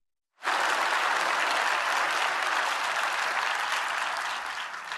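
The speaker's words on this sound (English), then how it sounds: "I'd like to thank them and give them a round of applause" An audience breaks into sudden, loud applause at the closing event of the Conference on the Future of Europe, a dense sustained clapping that fades slightly toward the end.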